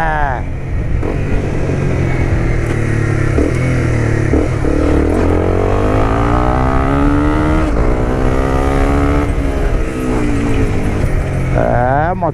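A Honda CBR 250R motorcycle fitted with an Akrapovic exhaust revs repeatedly up and down close by, its engine note rising and falling in long sweeps throughout while someone talks over it.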